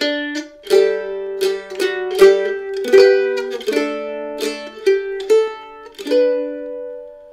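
A mandolin plays a chord-melody solo of Auld Lang Syne, plucked notes ringing with harmony beneath the tune, in steady phrases; close and clear, no voices.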